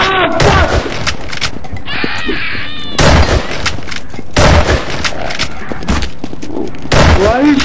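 Repeated bursts of loud gunfire and booms in the video game Zombie Master, coming in clusters through the clip with frantic game sounds and shouting voices in between.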